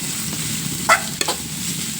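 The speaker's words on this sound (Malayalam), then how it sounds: "കയ്പക്ക വേവണ വരെ നമ്മൾ ഈ എണ്ണയിൽ ഈ കയ്പക്കയെ ഇങ്ങോട്ട്" Bitter gourd fries in oil with a soft, continuous sizzle, broken by a couple of brief stirring scrapes near the middle.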